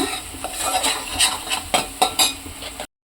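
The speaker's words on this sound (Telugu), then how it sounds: "దీన్ని మనం పచ్చివాసన పోయేంత వరకు ఎంత బాగా ఫ్రై చేసుకుంటే అంత బాగుంటుందండి కూర" Spoon stirring okra and fish curry in a frying pan, close scraping and clinking strokes in an uneven rhythm with a faint sizzle beneath, ending abruptly.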